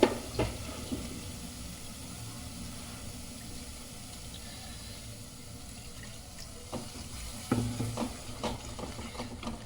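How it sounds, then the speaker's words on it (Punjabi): A little water is poured into frying masala for turnip and fenugreek saag, a watery splash rising briefly near the start and again around the seventh second over a low steady kitchen background. "ਆਪਾਂ ਇਹਦੇ ਵਿੱਚ ਪਾ ਲਿਆ ਥੋੜਾ ਜਿਹਾ ਪਾਣੀ"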